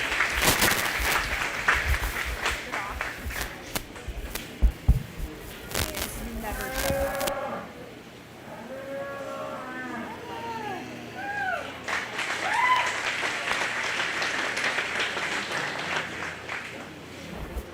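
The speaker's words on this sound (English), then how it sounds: "big round of applause for all my juniors" Crowd applause at a county fair junior showmanship event, scattered clapping early that fades, followed by a quieter stretch with chirpy sounds, then clapping swells again toward the end.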